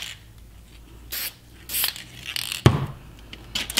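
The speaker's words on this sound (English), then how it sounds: "So I'm just gonna come in and do a little spray right here. I love to spray right over the gold." Short bursts of a spray bottle misting water over a watercolor painting with gold gesso, several quick hisses spaced apart, close and fairly quiet, with a brief louder knock partway through.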